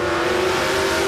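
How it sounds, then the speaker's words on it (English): Drag racing car at a radial shootout qualifying event, smoking its tyres off the start line: a loud, continuous engine roar with a steady droning tone that holds throughout without a break. "Anthony Miller just smoking the tyres off the start line."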